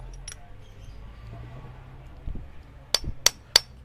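Hammer strikes seating a bicycle bottom bracket bearing on a hard flat surface, a few sharp close metallic knocks in quick succession near the end after a quiet stretch.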